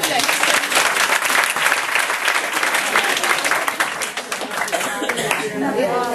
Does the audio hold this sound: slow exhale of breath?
no